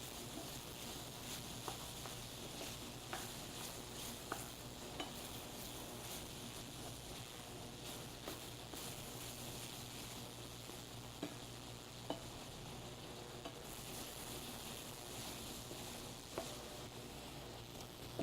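Sausage frying in a pan for gravy, rendering its fat, gives a steady faint sizzle with occasional soft pops and light scraping throughout, with no talking.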